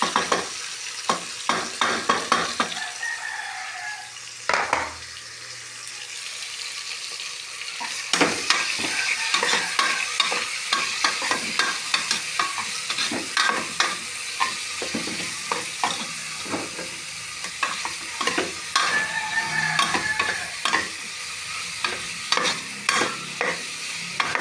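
Chicken pieces sizzle and fry in a pan while a utensil stirs and scrapes them in repeated bursts. The frying hiss stays loud and close, and a few quieter pauses break up the stirring.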